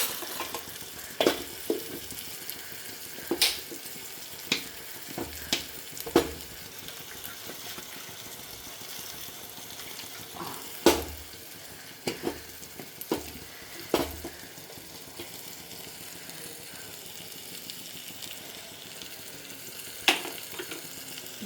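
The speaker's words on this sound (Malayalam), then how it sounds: "നന്നായിട്ടൊന്ന് ഇളക്കി" A spoon stirs pepper fish curry after ground paste and a little rinse water are added to the pan: soft scraping and sizzling runs steadily under repeated sharp clicks of the spoon against the pan, with no speech.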